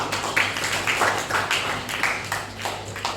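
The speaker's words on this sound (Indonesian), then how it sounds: "beri tepuk tangan dulu kita" Students in a classroom guidance session clap together, a quieter, uneven patter of hands with distinct individual claps rising and falling over about three seconds, with no talk over it.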